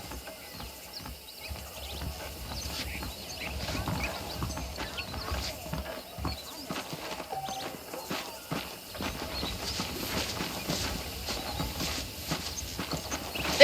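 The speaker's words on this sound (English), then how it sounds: "The horses are saddled up over here." Horse hooves clip-clop steadily in the Western video game Red Dead Redemption, a continuous close trot mixed with ambient outdoor game sound and faint background noise.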